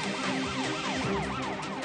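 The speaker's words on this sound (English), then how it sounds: "The sirens have caused a traffic jam." Loud wailing police sirens rise and fall in repeated sweeping cycles, with traffic rumble underneath.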